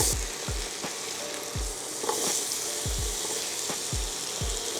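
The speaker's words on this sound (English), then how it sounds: "Now we're gonna whack all these apples in." Apples sizzle loudly in browned butter in a pan, a dense continuous frying hiss up close, punctuated by regular low thumps from tossing and stirring.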